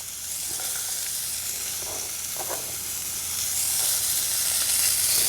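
Onions and carrots frying in a pan make a steady, loud, close sizzle with a soft hiss of steam that swells slightly toward the end, with no talking over it.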